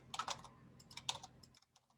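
Computer keyboard typing in quiet, close clusters of quick key clicks, two short bursts as data is entered into an Excel user form, then stopping.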